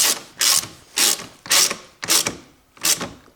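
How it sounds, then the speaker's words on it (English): A 10mm socket ratchet fastens a battery bolt on a Lexus in six crisp, close bursts of rapid clicking, each stroke followed by a short pause in an even rhythm. "I take my 10mm socket and I fasten this bolt"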